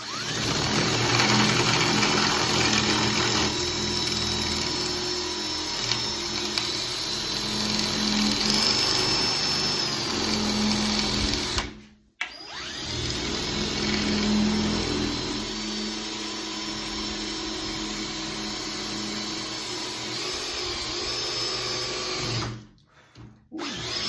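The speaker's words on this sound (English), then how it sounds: "let's drill this baby out." A power drill bores through an acoustic drum shell being converted to an electronic kit, a loud steady whine running for about eleven seconds, stopping briefly, then resuming for another stretch before cutting out.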